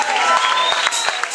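Church congregation clapping and cheering in a large hall, a dense, loud burst of applause with crowd voices mixed in, over a sustained tonal background.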